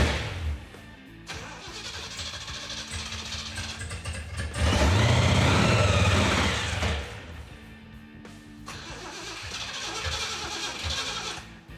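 A hotwired supercharged Jeep engine cranking, a steady loud grinding whir that surges louder for a couple of seconds in the middle, then drops back to continued cranking without catching.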